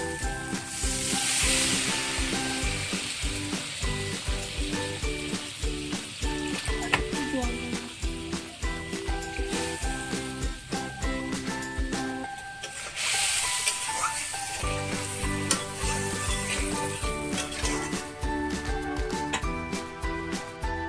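Mustard paste goes into a fried spice masala in a pan and sizzles steadily for a long stretch, with scraping stirs and brief lulls under an ongoing bed of other sound.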